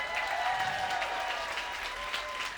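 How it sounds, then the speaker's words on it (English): A crowd at an outdoor March for Life rally in Parliament Square, London, applauds steadily, a dense wash of clapping and cheering heard throughout. "I'd like to give a big applause for Eileen Riley,"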